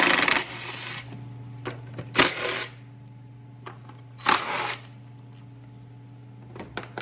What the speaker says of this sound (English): use a 10mm socket to unbolt the coils